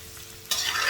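Egg noodles with chicken and soy sauce being stir-fried in a pan, a quiet moment that suddenly bursts into a loud, bright sizzle halfway through as soy sauce hits the hot pan, with no talking.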